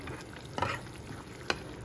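A spoon stirs semiya (vermicelli) upma as it simmers in a pan of hot water, giving soft scraping strokes with two sharper clinks against the metal over a faint steady bubbling.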